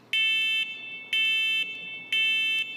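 A loud, shrill smoke alarm sounds in three long beeps, each about half a second, repeating at a steady one-second rhythm.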